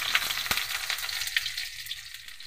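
Garlic sizzles and crackles steadily in hot cooking oil, with a sharp stir or clink near the start, close and continuous with no voices.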